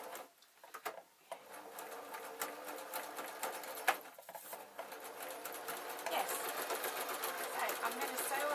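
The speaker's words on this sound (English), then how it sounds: "And I'm going to sew on a diagonal." A sewing machine stitching quilt pieces along a diagonal, running as a fast, steady mechanical whir that starts after a few short pauses and builds louder toward the end.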